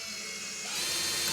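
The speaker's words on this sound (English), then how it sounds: "I'm using a level 13 in my screwdriver and it's enough for it." An electric screwdriver drives screws into the supports of an IKEA SUNDVIK bed. The motor gives a faint, steady whir that swells slightly louder partway through, with no voices.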